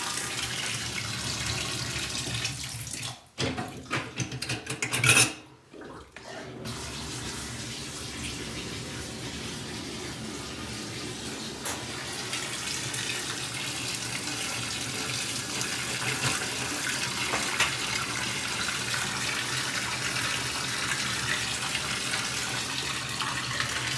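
Water drains steadily from a newly installed farmhouse sink, a loud continuous rushing wash that runs for most of the stretch after a few brief knocks and pauses near the start.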